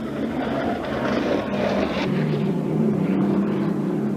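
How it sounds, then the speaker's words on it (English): An unlimited hydroplane racing boat powered by a supercharged Allison engine roars past during a race heat, a loud sustained engine drone with shifting pitch that swells and recedes steadily. "that is an Allison engine, supercharged Allison"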